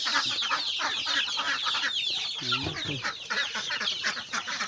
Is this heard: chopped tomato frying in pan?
no